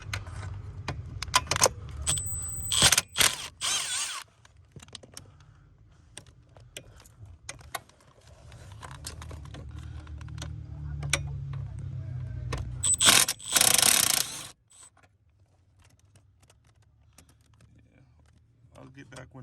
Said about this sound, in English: Unplug the brake switch, and then gonna loosen these bolts.